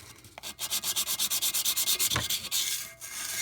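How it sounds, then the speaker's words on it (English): A gasket surface is sanded by hand to strip old sealer, giving a close, loud, rhythmic rasping of rapid back-and-forth strokes, about a dozen in quick succession, with no talking. "Come in here and sand it down."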